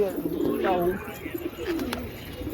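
Pigeons coo softly nearby, a few low warbling calls, with faint background noise and a brief higher chirp.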